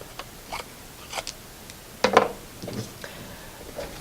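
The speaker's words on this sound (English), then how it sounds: "So I'm going to cut pieces like this." Scissors snip through paper to cut hair pieces for a self-portrait cutout, a few short, crisp cuts spaced apart, close and fairly quiet, with one louder double snip in the middle.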